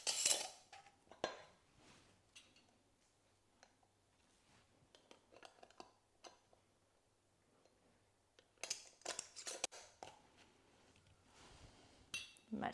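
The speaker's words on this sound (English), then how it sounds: "now we're going to put our lids on" Metal canning lids set onto glass jars of pickled cucumbers, giving scattered light clinks and taps, with a denser cluster of metallic clatter near the end, faint and close with no talking.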